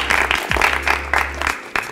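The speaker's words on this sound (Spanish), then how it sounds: "Y han aplaudido porque han dicho aplausos." Studio audience applause at a Spanish school TV show, breaking out in a few uneven waves over a low steady hum, with a brief pause near the end before resuming.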